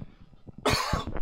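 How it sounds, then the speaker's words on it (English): A single sharp human cough breaks out after quiet low background sounds, loud and close, followed by a shorter second cough burst. "Sorry about the cough."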